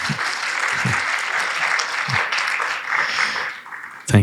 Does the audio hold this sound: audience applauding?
yes